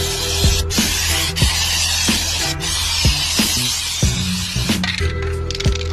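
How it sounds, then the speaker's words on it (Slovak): A 750 aerosol spray paint can with a fat cap sends out a steady, loud hiss of about 35 cm spray, with repeated knocks and clicks cutting through it. "Tento sprej má cca 35 cm a dosť to syčí."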